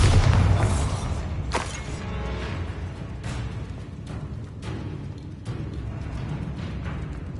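Bombarda and Confringo blasts from Hogwarts Legacy combat, a heavy booming explosion opening loud with a deep low rumble, then a string of sharp impact cracks and thuds over a sustained roar.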